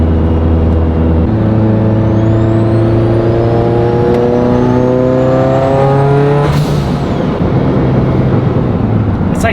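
A Mitsubishi Evo 8 engine pulls hard on a dyno at full boost, its loud roar rising steadily in pitch through the revs before a sharp release burst, then settling into a rough, noisy drone.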